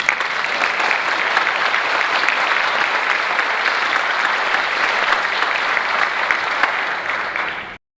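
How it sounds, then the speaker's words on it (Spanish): A lecture audience applauds in a dense, steady wash of clapping for about seven and a half seconds before it cuts off abruptly into silence. "recibimos con un aplauso"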